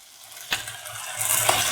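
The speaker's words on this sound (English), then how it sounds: "shallot, fennel, caraway mixture. Saute and mix." Onion, shallot, fennel and caraway mixture sautéing in a pan for a chickpea spinach stew, a close sizzle building as a utensil scrapes and stirs with a couple of clinks.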